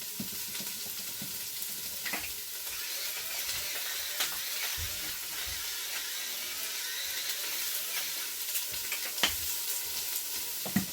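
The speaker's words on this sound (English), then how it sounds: "So I'm just starting off the onions, okay, and I'm going to add some salt and some pepper." Onions sizzle steadily in a hot pan while a spoon stirs them around, with occasional scrapes and clinks against the pan over the constant frying hiss.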